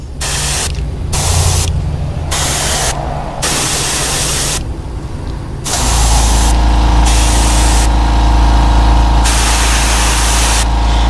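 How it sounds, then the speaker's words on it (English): An airbrush sprays thinned paint onto a cicada popper fishing lure, producing loud, steady hissing bursts that start and stop repeatedly, with a low compressor hum running continuously underneath, close and dominant. "if you approach this and you're angling your airbrush down this bait, you're going to get less splatter on the wing segments"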